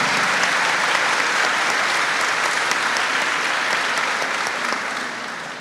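Sustained, dense applause from an audience at a church marriage talk, loud and steady for several seconds before tapering slightly at the end.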